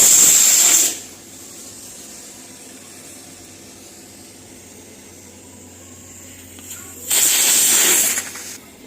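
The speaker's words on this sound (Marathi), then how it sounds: "चला तर आता मी कुकर लावून घेते।" Pressure cooker cooking dal lets out two loud bursts of steam hiss, one at the start and one near the end, with quiet kitchen background in between.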